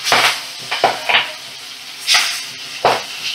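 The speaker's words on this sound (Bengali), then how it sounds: "মিডিয়াম ফ্লেমে রেখে মাছগুলো ভাজা করে নিচ্ছি।" Magur catfish frying in oil over a medium flame, with bursts of sizzling and spattering and a few clinks of a utensil against the pan, close and clear.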